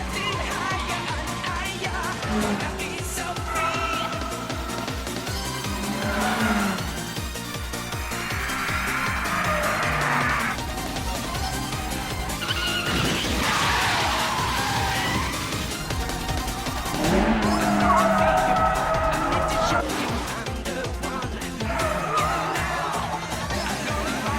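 Race car skidding with squealing tires in the dubbed anime Initial D, engine roar and repeated tire squeals rising and falling over a dense mix of music and effects, loud and close.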